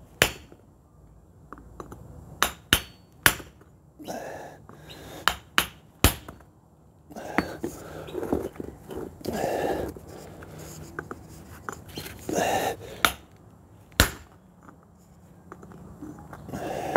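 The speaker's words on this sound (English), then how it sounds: "I've got a 2-pound hammer." Sharp metallic blows from a 2-pound hammer strike a chisel on a 4 kg lump of marcasite, spaced irregularly with pauses between, some in quick pairs, with scraping and shuffling in the gaps.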